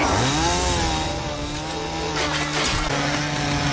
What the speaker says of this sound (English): I've got the chainsaw.